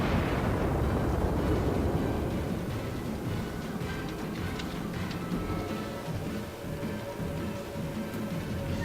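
Main guns of the Japanese tier 6 battleship Fuso fire in World of Warships, opening with a heavy booming blast that rolls into a long, dense rumble of distant explosions and low roar, loud at first then slowly settling.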